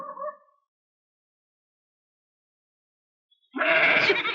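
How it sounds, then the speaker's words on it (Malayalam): A goat bleats loudly and close in a quiet night-time setting in a Malayalam film scene, its sound coming after a long silence and following a brief bit of talk at the start. "ആട് കരയുന്നു"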